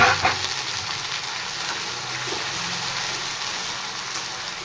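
A paste of garlic, ginger and onion fries in a pan with a dense, continuous sizzle, opening with a sharper crackle and stir as it goes in, then settling into an even, close hiss.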